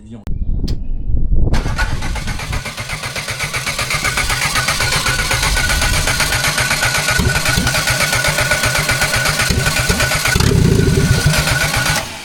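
A Citroën AX engine running on Star Pilot starting fluid in the carburetor cranks briefly, catches, and then idles loudly and steadily up close, with people talking over it.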